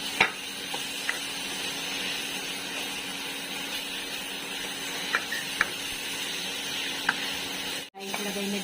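Squid adobo cooking in a pan as tomatoes go in, with a steady soft sizzle, a few light utensil clicks against the pan and one brief dropout near the end.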